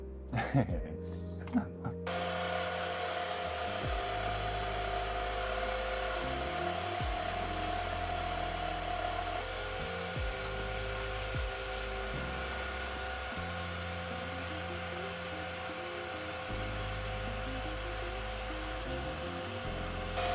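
Automatic carving machine cutting a wooden toilet paper holder, a steady whining motor hum with a repeating rhythm of rising and falling cutting passes, continuing for many seconds in a workshop.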